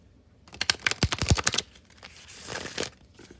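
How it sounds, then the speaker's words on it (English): Tarot cards get a hard shuffle, a quick run of crisp riffling clicks up close, followed by softer rustling and sliding of the deck; quiet surroundings otherwise. "Let me do a good hard shuffle here."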